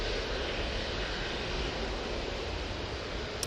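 A Ryanair jet airliner taking off from Manchester Airport for Alicante, its engines making a loud, sustained broadband roar that stays steady with no voices.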